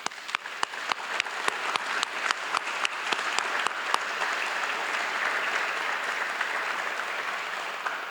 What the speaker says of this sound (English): Please allow me to applaud you both.